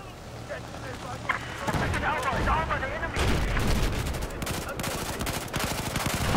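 Gunfire in the multiplayer video game Battlefield 4: continuous rapid automatic fire and explosions fill the clip, loud and close, with crackling bursts throughout.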